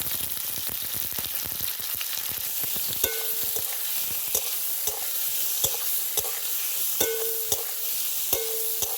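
Chopped potatoes and green tomatoes frying in a pan, a steady bright sizzle with frequent clattering stir strokes and a few sharp spatula taps.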